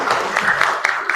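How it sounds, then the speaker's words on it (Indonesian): Students clapping in a classroom after a classmate gives a correct answer, a brief burst of dense hand claps at steady loudness that continues right through to the end. "tepuk tangan untuk Alis"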